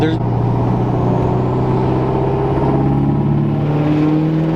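A Duramax diesel pickup engine revs at half throttle, a steady loud drone with rising harmonics over several seconds, close by, while people talk over it.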